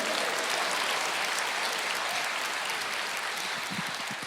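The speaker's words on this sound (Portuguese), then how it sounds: "Aplauda o Senhor" A church congregation applauds during a Portuguese-language sermon, a dense, steady wash of many hands clapping that fills the whole stretch at an even level with no voices over it.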